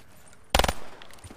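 A short, loud burst of rapid gunfire rings out in Call of Duty Black Ops III Zombies, several shots cracking in quick succession and then dying away.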